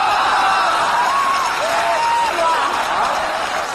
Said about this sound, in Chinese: 此地有雷鸣般的掌声。